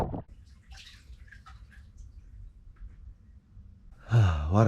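Bath water runs at a bush camp in a game reserve, a soft steady trickle under quiet ambience, ending with a loud close rush of splashing water.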